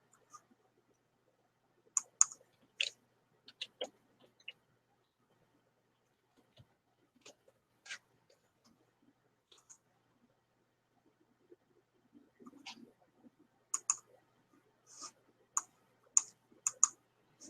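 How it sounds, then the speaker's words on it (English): Computer mouse clicks on a website, sharp isolated taps scattered irregularly in small clusters across a quiet room, close and clear with no talking. "And I'm clicking on Cha-Ching."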